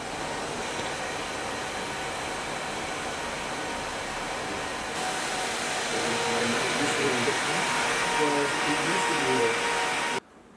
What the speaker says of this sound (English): This is the server room.